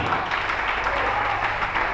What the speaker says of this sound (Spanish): Denle fuerte el aplauso a Dios, por favor